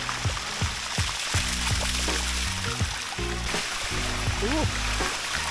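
Water rushes and splashes down a grippy jungle waterfall in Thailand, a steady close stream with scattered drips and splashes, while people talk and call out over it.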